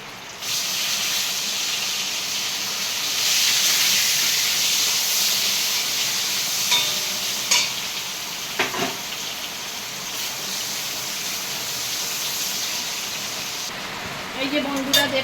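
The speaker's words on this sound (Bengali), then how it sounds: "এই যে বেগুনটা ভেজে নেব।" Eggplant frying in hot oil sends up a loud, continuous hiss and crackle that holds steady for a long stretch, with a few clinks of a utensil near the end.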